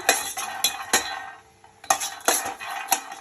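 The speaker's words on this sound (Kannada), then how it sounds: "ಮೊದಲಿಗೆ ಕಡಲೆಕಾಯಿ ಬೀಜ ಹಾಕ್ಕೊತಾ ಇದ್ದೀನಿ ಇದನ್ನು ಹುರ್ಕೊಳ್ಳೋಣ" Peanuts roasting in a pan with nothing else added, stirred with a utensil: loud, close, repeated scraping clatters as the nuts rattle against the metal, coming in uneven bursts with a brief lull midway, and no voices.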